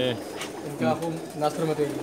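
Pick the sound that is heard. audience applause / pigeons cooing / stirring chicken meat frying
pigeons cooing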